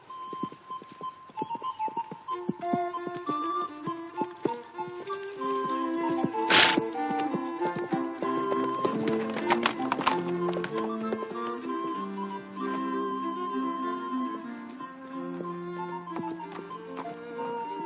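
Horse hooves clip-clop steadily under a swelling orchestral score, with a sharp crack partway through.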